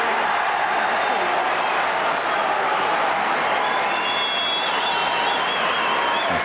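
Rapturous applause from a snooker crowd at the 1998 Masters Final, dense sustained clapping with some cheering, steady and loud throughout.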